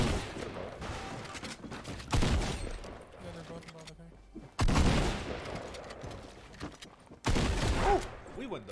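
Gunfire in the Fortnite Battle Royale video game comes in three loud, dense bursts, rapid repeated shots over a steady game soundscape, with someone talking between the volleys.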